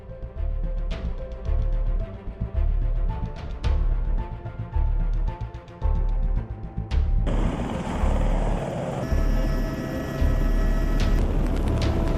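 Steady loud rotor and engine roar of a police helicopter close by over flooded Kelantan, with thumping pulses, shifting to a harsher, brighter whine partway through.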